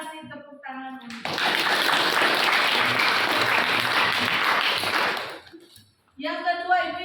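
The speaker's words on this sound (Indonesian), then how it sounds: "Kita kasih tepuk tangan untuk." An audience in a classroom lesson bursts into loud, sustained clapping for about four seconds, framed by brief speech before and after.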